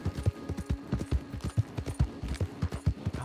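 Horse hooves clip-clopping in Red Dead Online, a steady rapid rhythm of close, distinct hoofbeats on the ground with faint background ambience.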